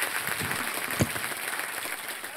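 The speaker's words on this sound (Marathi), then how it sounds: "ऐरोलीकर, टाळ्यांचा आवाज येऊ दे" An audience claps at a local event in Airoli as a honoured woman receives a ceremonial turban. The clapping is a moderate, dense patter at middle distance, with one louder clap standing out and no speech heard.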